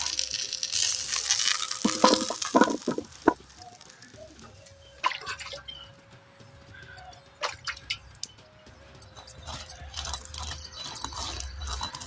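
Pirandai (adamant creeper) frying in oil, crackling and sizzling loudly at first with sharp pops, then settling to quieter intermittent spits and stirring clinks, close by with no talk.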